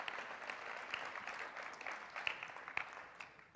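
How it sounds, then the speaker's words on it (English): Fairly faint, continuous clapping from an audience at a sales and marketing seminar, steady throughout with a few sharper individual claps standing out. "just give yourselves a round of applause"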